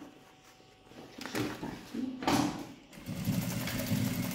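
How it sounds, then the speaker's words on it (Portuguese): A sewing machine stitches across a bag strap on a shoulder bag in a sewing class, heard as short mechanical bursts of whirring with clicks and pauses between runs. "colocou aqui, passa uma costura para segurar"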